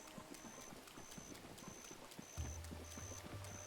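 Rain falls steadily in The Legend of Zelda: Breath of the Wild, a soft continuous patter with scattered droplet ticks, faint and even, and a low rumble joining near the end.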